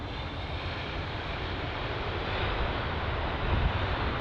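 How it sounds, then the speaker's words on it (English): A JetBlue Airbus A321neo jet arriving at London Heathrow from New York JFK produces a steady, loud, broadband engine roar that swells slightly toward the end, with no voices. "arriving from New York JFK, there is the JetBlue A321 Neo"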